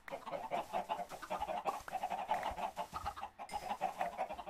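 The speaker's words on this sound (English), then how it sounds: "Oh my goodness, there are so many chickens." A dense flock of Minecraft chickens clucks nonstop in the game, many overlapping calls forming a busy, steady chatter at moderate level with no talking.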